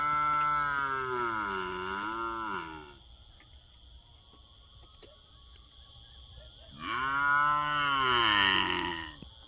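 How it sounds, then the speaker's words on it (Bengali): A cow moos twice, long drawn-out calls separated by a quiet pause, fairly close and clear at a rural homestead as a storm gathers, with no talk over it. "কেমন ডাকছে দেখেছো গরুটা?"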